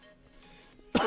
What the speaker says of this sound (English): I'm gonna keep coughing now